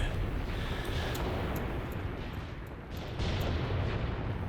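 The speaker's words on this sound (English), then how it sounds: "Getting it over here with the artillery now." Artillery fire in the war strategy game Graviteam Tactics, a dense continuous rumble of booms and blasts rolling on without pause, heavy and loud throughout.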